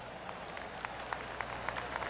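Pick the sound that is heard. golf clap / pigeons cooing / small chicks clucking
golf clap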